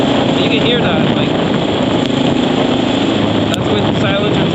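Honda XR650L motorcycle running through a Lex exhaust with the silencer tip installed, a loud, steady, rough engine drone held close for the whole stretch with no breaks.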